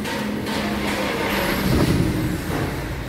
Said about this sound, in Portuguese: O carro funcionou